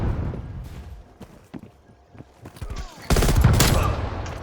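Burst-fire weapon shots ring out in a hardcore multiplayer match of a first-person shooter game: scattered sharp cracks, then a loud dense barrage of rapid fire toward the end, with some talk and game noise mixed in.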